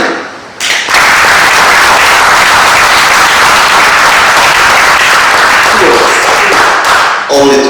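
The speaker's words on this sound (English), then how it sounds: "the best way to close this audience and this exciting day is with a big applause to you" Loud, sustained applause from a conference audience closing a mineral exploration event, dense steady clapping filling the room for several seconds before tapering off.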